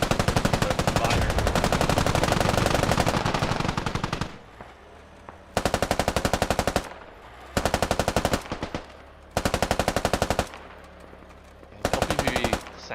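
In the video game Squad, machine-gun rounds hammer a vehicle shield in long, loud, rapid bursts broken by short pauses, each burst a dense stream of close impacts.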